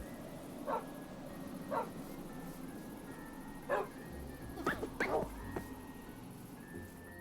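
Dogs in a video game bark and yip in short, spaced bursts, several separate barks with a quick cluster of two or three, fairly close and clear over a quiet background.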